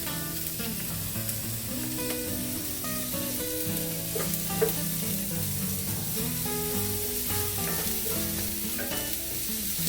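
Garlic sizzles in a pan with vegetables for an egg muffin mixture, with a steady close crackle and scattered scraping taps as it is stirred, at moderate level, with no voices.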